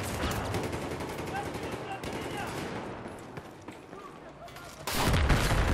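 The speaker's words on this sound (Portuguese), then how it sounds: "tá tudo explodindo aqui" Dense gunfire and explosions from the shooter game Battlefield 1 rattle on without pause, with a sudden louder blast near the end; someone talks over the battle.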